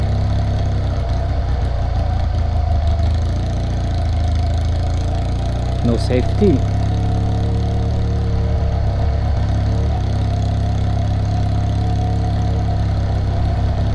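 A Yamaha XS650 motorcycle engine idles with a steady, loud, low rumble on a touring ride to Dieng, while a person speaks briefly over it and a short chirp cuts through midway.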